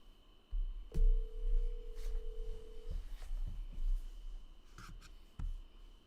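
A telephone ringback tone sounds while a call waits to be answered, one steady tone held for about two seconds, followed by faint clicks and thumps in a quiet room.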